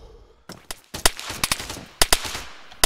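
Bursts of gunfire in a capture-the-flag video game match: sharp shots, single and in quick pairs, ringing out over a quiet background with no talking.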